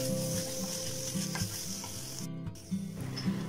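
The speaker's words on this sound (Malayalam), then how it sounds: "നമുക്ക് പച്ചമുളകും ഉള്ളിയും കൂടി ഇട്ടിട്ട് നന്നായിട്ടൊന്ന് വഴച്ചെടുക്കാം" Green chillies and onion sautéing in oil for paneer masala, a bright continuous sizzle with a spoon stirring and scraping the pan in an even, repeating rhythm.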